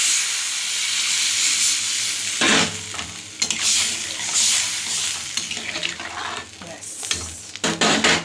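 Water poured into a pan for a thin rohu fish curry with potato and tomato bursts into a loud hissing sizzle, then settles into bubbling with intermittent stirring.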